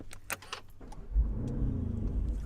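A Mansory-tuned Lamborghini Urus of over 800 hp is started up, with a few clicks and key sounds before the engine catches and settles into a deep, bubbling exhaust rumble close by.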